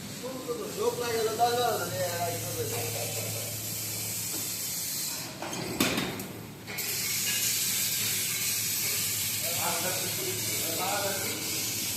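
Machines running in a sheet metal workshop, a continuous loud spraying hiss with mechanical clatter, briefly dipping mid-way, with a voice talking over the start.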